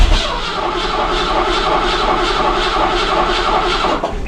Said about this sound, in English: it just turns over, doesn't start